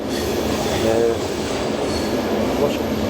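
Interior of a moving passenger train between Montenegro and Serbia, a loud steady rumble of wheels on rails with faint squealing and rattling, heard up close from inside the compartment without speech.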